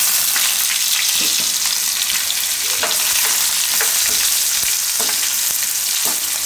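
Thinly cut carrots fry in hot oil with red chili and asafoetida, giving a constant loud sizzle with periodic stirring clinks and scrapes throughout.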